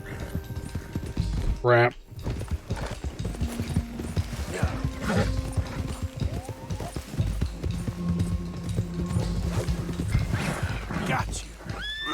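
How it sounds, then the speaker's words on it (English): Loose horses in Red Dead Redemption 2 neigh loudly and clatter with hooves, one shrill whinny standing out, while people talk and shout over the commotion. "Horses broke free!"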